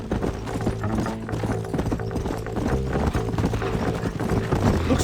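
Steady hoofbeats clip-clop in a continuous rhythm over a musical background, as horses trot or gallop along in the video game Red Dead Redemption, with no voices.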